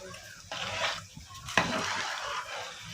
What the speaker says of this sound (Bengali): নাড়াচাড়া করে নিতে হবে, নয়তো নিচে ধরে যাবে।